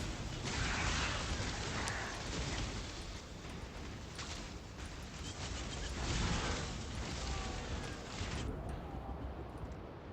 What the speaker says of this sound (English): Definitely can't survive any of those explosions.